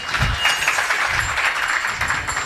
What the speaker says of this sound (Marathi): म्हणजे या टाळ्या दोन्ही अर्थी असतात बरं का, उरकावं म्हणून पण असतात